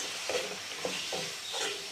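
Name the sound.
stirring tomatoes and red chili frying in a pan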